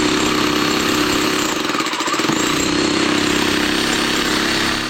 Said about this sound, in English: Video of Tony getting the drill stuck.